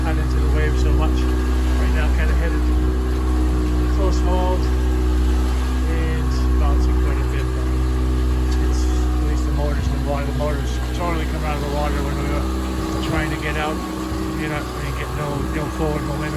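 A steady low engine drone runs throughout, like an outboard motor on a moving boat, with someone talking over it.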